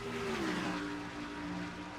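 Stock cars racing through the turns in a NASCAR-style racing video game, a brief steady engine drone with a pitch sliding slightly downward, fairly quiet and unaccompanied by speech.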